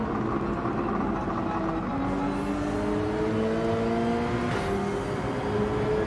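Subaru BRZ race car engine in Gran Turismo 7 on a mountain track, revving through rising gears in a loud, steady whine with clear upshifts and other cars audible around it.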